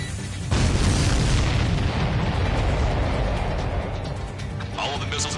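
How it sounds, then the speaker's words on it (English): Missiles are blown apart in the air combat video game Ace Combat 7, giving a heavy, sustained roar of explosions that swells after a brief quiet start and rumbles on loudly to the end. "All of the missiles have been destroyed."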